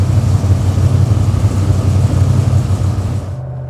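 HSV GTS with a G57 turbo and a custom twin 3.5-inch exhaust, a loud, steady, deep low-pitched rumble held for several seconds, then cutting off abruptly near the end.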